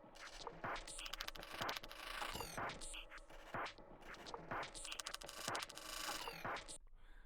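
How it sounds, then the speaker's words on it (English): A granular perc loop made of dense, crackly scraping and clicking textures, layered over a glitchy loop in a hip-hop beat, repeating in steady rhythmic bursts with no voices. "I added another granular perk loop that sounds like this with it."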